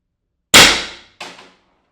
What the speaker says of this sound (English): So the ball is going to be exiting right about here and shooting through that much hollow tube.